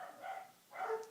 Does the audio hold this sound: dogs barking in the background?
yes